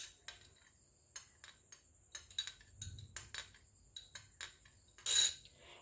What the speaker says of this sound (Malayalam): ഇത് ഞാൻ നന്നായിട്ട് ഇളക്കി എടുത്തിട്ടുണ്ട്